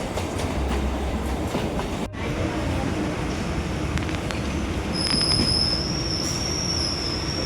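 A local passenger train running near Chennai, loud rumbling wheels and rattling carriages heard from on board, with a high wheel squeal rising in the last few seconds.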